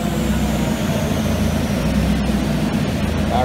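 A 1998 Honda Civic making about 780 wheel horsepower, its engine running on a dyno, giving a loud, steady low rumble with a few sharp clicks, no talk over it.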